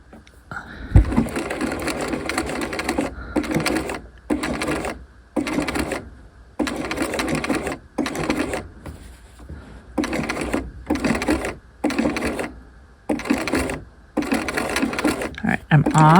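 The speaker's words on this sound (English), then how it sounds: "I'll zigzag stitch over this" A domestic sewing machine zigzag-stitching a bound buttonhole on a half-scale jacket, running in short loud bursts of rapid mechanical chatter separated by brief pauses, close up, with a voice talking in between.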